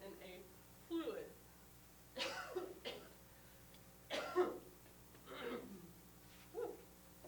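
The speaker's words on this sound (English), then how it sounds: "I thought I was done coughing up my lung this morning" Five or six separate coughing bouts from a lone person in a classroom, each a harsh burst spaced a second or so apart, fairly close and moderately loud against a quiet room.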